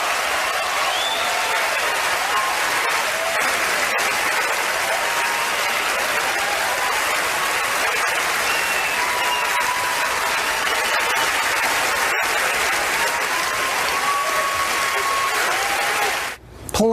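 A large audience gives Roman Polanski a long standing ovation, a continuous roar of applause and cheering that stays loud and even for the whole stretch before cutting off abruptly.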